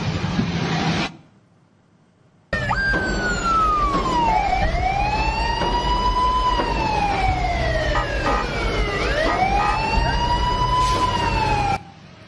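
A civilian minibus in Indonesian traffic blares a loud, close wailing siren that sweeps up and down after a short horn blast and a brief gap, with road traffic rumbling underneath.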